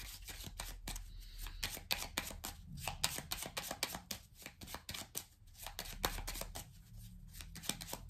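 Playing cards being shuffled and dealt out for a card reading: a close, steady run of quick papery riffles and snapping taps, with no one speaking.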